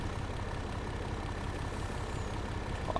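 A Volvo truck engine idles in Farming Simulator 22, giving a steady low rumble with a constant drone and no change in pace, heard alone without talk.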